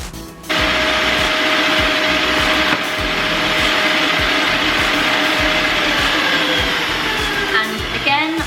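A stand mixer beats cookie dough with egg and vanilla on high speed for pistachio, white chocolate and sour cherry cookies. It gives a loud, close, continuous whirring roar with a steady rhythmic knocking underneath and a brief dip midway.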